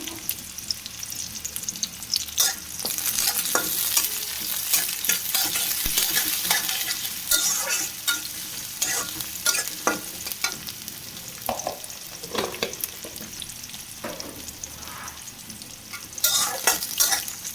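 Bay leaves frying in hot oil with onion in a home kitchen pan, a steady sizzle broken by frequent scraping and clattering stirs, louder toward the end.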